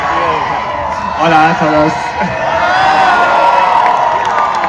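A loud crowd cheers and shouts at the Formula 1 Spanish Grand Prix in Barcelona, a steady roar with whoops running throughout while someone talks over it.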